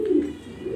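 A master pair of pigeons, kept with eggs and chicks, gives soft low cooing: one rolling coo at the start and another rising near the end, fairly faint and close, with no talk.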